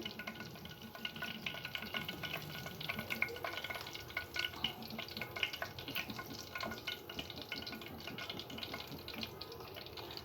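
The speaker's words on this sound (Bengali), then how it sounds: "আমি এখন এখানে শুকনো মরিচগুলো দিয়ে দিচ্ছি" Dried red chillies fry in oil in a pan used for a sponge gourd and egg curry, giving a steady low sizzle with faint stirring and scraping throughout, fairly quiet and without talk.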